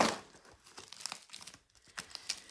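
A shipped package box is cut open at close range, with crinkling, tearing and scratchy rustling in uneven bursts that come and go through a quiet room.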